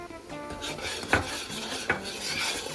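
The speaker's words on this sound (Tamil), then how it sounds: "நல்லா கலந்துட்டு இதோட தேங்காய் பூவை போட்டால் சரி" A spoon stirs cardamom powder into dissolving sugar syrup in a pan, giving soft scraping strokes with two sharper clinks against the metal, close up and without talk.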